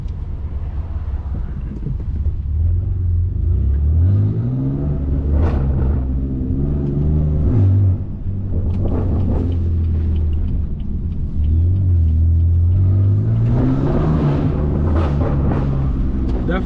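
Straight-piped 650 hp BMW F80 M3 exhaust revving hard while driving, loud rising and falling engine roar repeated over and over with a deep rumble and steady road and wind noise underneath.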